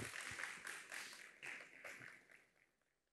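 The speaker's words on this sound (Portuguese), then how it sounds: "uma salva de palmas aí para o nosso palestrante" An audience at a talk on personal data and cybercrime gives the speaker a round of applause, bursts of clapping that start fairly full and thin out, fading away by the end.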